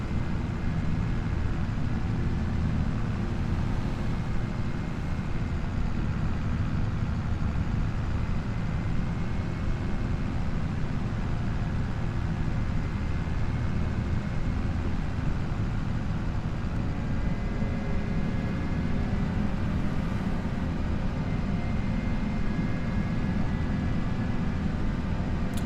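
Truck pulling a trailer in Farming Simulator 25, a steady low engine drone with road rumble that holds constant throughout and has no talking over it.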